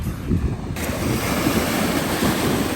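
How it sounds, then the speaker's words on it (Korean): Waves wash steadily onto the shore of Sayram Lake, a high mountain lake, with a constant close roar of surf mixed with wind buffeting the microphone and no voices. "이게 호수가 아니라 무슨 바다 같아 파도도 쳐요"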